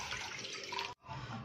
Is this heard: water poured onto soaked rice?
yes